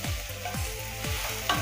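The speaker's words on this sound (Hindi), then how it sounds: "अब हम इस प्याज को सुनहरा होने तक भूनेंगे।" Finely chopped onions fry in a hot pan, sizzling steadily while being stirred, with a scraping pass roughly every half second; close and fairly loud, no voices.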